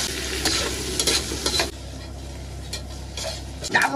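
Sliced lamb offal is stir-fried in a wok, with close, hissing sizzle and a few scraping stirs of the spatula, loud at first and then settling into a softer, steady fry.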